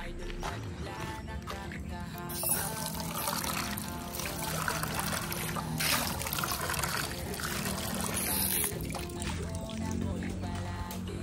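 Water poured and trickling steadily into a container for pigeons, a continuous close splashing stream with a voice talking over part of it.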